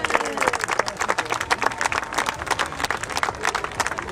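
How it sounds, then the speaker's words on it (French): A crowd claps and cheers loudly and steadily for a world champion paragliding double-dragon act from the Rhône-Alpes region at the Coupe Icare free-flight festival, with dense continuous applause throughout. "on applaudit bien fort notre champion du monde avec ce double dragon de la région"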